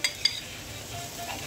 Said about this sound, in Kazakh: Жуамыз қуырылды, сәбізді салып, жақсылап қайнатып